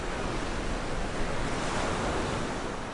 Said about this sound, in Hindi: समुद्र के किनारों से टकराती हुई मौजें